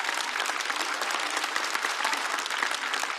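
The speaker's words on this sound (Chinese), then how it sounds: "来，我们再次把热烈的掌声送给张伟丽。" A studio audience at a women-themed Chinese talk show claps in steady, dense applause that holds at an even level throughout.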